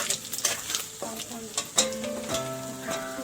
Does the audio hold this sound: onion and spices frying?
yes